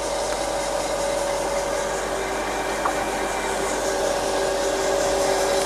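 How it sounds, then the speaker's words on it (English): A used Jones & Shipman 1311 universal cylindrical grinder runs its hydraulic pump, workhead and wheel head with the coolant off, giving a smooth, quiet, continuous hum with no talk. "The workhead's nice and quiet, the wheel head's nice, the hydraulic pump's nice and quiet, it's traversing and cross-feeding nicely."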